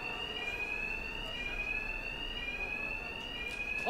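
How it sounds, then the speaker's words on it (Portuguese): A bank alarm in Batman: Arkham Knight rings continuously as a loud, steady electronic tone with a hard ring, running alone throughout with a faint background hum. "Com o alarme, os capangas dos duas caras não me escutarão."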